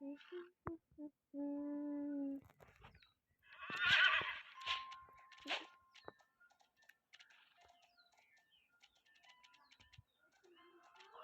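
Horse neighing in a horse video game, a short whinny followed by scattered game effects and clicks, fairly quiet with gaps of silence.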